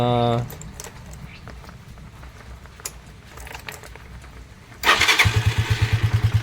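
A motorcycle left unused for several days starts up and begins warming, a sudden close engine burst settling into a loud, pulsing idle after a stretch of quieter background noise.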